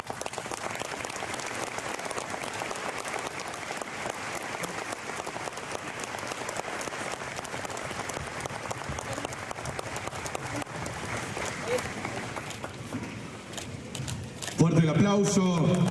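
Sustained applause from a ceremony audience at an anniversary civic event, steady and dense for about fifteen seconds, with a brief tonal sound near the end.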